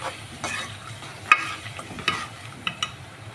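Bitter gourd pieces cooking in a pan with tamarind pulp, a low steady sizzle broken by a few sharp scraping stirs of a spoon against the pan, close and fairly quiet with no talking.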